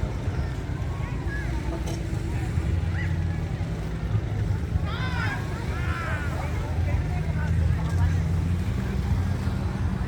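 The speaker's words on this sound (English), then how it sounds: "There goes the banana boat." A motorboat towing a banana boat drones in the distance over lapping water and wind at a beach on Subic Bay, Philippines, with a crowd's chatter and scattered voices in the background.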